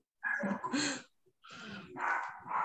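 A pet dog barks and yips close by in a home during an online workshop call, two loud bursts separated by a short pause, with no talk over it.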